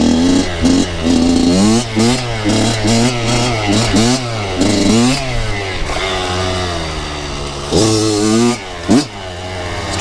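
Kawasaki KX100 dirt bike engine revving hard, with repeated rising and falling throttle blips, loud and close, several short pulls followed by a brief drop near the end.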